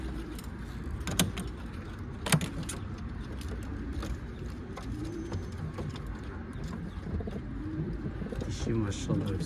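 Soft pigeon cooing in the background, low and repetitive, with a couple of sharp knocks and faint traffic around.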